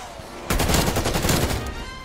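Rapid gunfire in a Call of Duty zombies game, a sudden loud burst of repeated shots that starts after a quiet lead-in and keeps going to the end.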